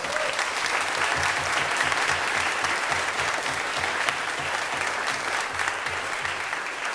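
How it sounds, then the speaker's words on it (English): Sustained audience applause at a jazz concert honouring veterans, a dense, even patter of many hands clapping for several seconds with a few louder claps standing out and little talk. "Let's just give you all a round of applause."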